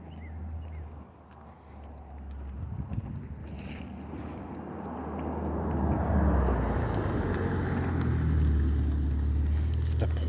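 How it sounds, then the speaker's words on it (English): A Porsche drives past, its engine and road noise swelling from a low rumble into a loud, sustained roar, with voices talking over it. "It's the Porsche. They're driving a Porsche."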